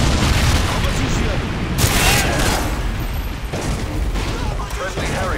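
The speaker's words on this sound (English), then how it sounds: "Friendly predator missile incoming." Predator missile strike explosions in a first-person shooter match, a dense, loud rumbling roar with repeated heavy booms and a noisy wash of debris, sustained throughout with a voice faintly underneath.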